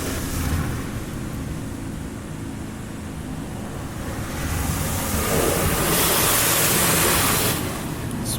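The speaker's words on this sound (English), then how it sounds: "The dryer turns on, bro." Inside an automatic car wash, the air dryer blasts over a Corvette C8 Z06, a loud, broadband roaring rush that swells and surges as the blowers pass along the car.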